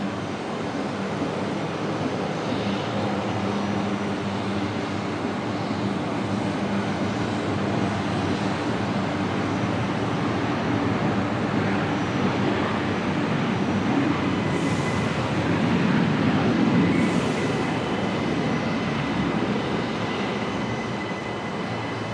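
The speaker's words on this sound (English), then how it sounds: "That was Qantas 632 there, arriving from Melbourne." Qantas 632 airliner arriving from Melbourne at Brisbane Airport, a broad steady roar of engine noise that swells slightly toward the end, heard from a distance without talk.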